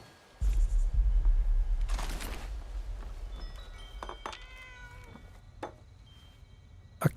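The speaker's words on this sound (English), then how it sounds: "I definitely heard a cat." A cat in Fallout 76 meows a few times, each call fairly faint and sliding in pitch, following a low thump and a brief rustle, with game ambience underneath and no talk.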